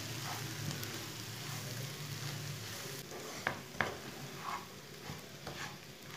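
Semolina is stirred and roasted in a pan, giving a steady soft sizzle with scraping spoon strokes and a few sharp clicks against the pan, close and fairly quiet, with no talking.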